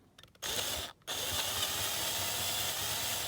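Power drill grinding steadily into the rusty axle of a Lesney King Size No.1 Articulated Shovel die-cast toy, starting after a brief pause and running continuously, close and fairly loud.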